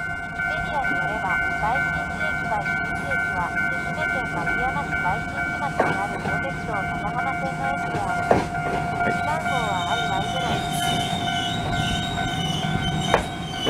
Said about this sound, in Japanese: 電車が入ってきます。